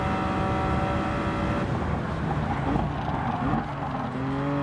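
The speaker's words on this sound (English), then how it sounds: "That backfire sounds really nice, actually." A BMW VGT car in Gran Turismo 7 roars under throttle, then its exhaust crackles and pops with backfire as engine pitch drops and shifts, loud and close with no talking.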